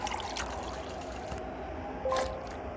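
Water pours and trickles while drinking water is collected in a side-scrolling tactical squad adventure game, a steady soft liquid wash with a brief louder splash near the end, heard alone without talk.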